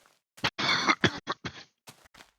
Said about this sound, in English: Oh gosh, COVID cough.